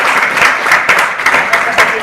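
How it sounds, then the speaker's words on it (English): A crowd at a business development services standards launch applauds the minister, steady close clapping filling the whole short stretch with a few louder bursts. "Let's give a better round of applause to our"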